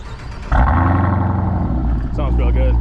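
A Dodge Durango Hellcat with a mid muffler delete starts driving off, its supercharged engine rising into a loud, steady roar that swells again near the end, close to the listener, with voices talking over it.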